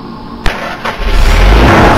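A sharp click, then a video game car engine turns over and roars up to a loud, steady rumble that keeps building to the end.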